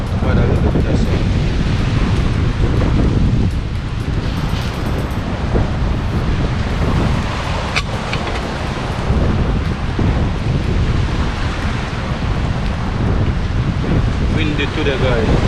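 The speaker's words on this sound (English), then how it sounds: "Down here, rough, windy." Strong wind roars and buffets a microphone outdoors at a rough, windy Jamaican seaside spot, loud and continuous for the whole stretch with surf-like rushing mixed in and faint voices underneath.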